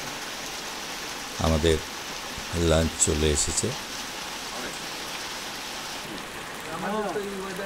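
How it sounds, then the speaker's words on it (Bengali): Rain falls steadily at the Burikhola homestead in the Dooars, a soft even hiss throughout while people talk over it. "এখানে দেখতে পাওয়া যাচ্ছে বৃষ্টি শুরু হয়ে গেছে"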